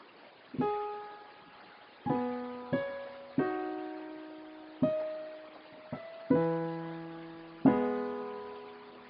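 An organ plays part of a song, eight separate sustained chords struck one after another at an uneven, unhurried pace, each ringing and fading slowly, alone with no talking.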